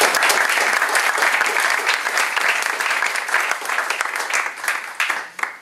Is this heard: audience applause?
yes